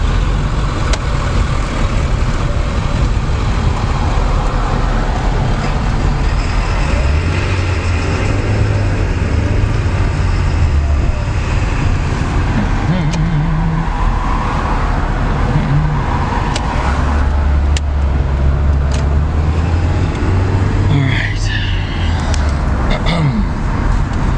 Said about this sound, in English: It's been a while since I drove in this much traffic.